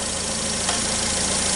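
A 2012 Nissan Versa engine idles close up with a steady, even drone. The car has coolant temperature sensor and throttle position faults.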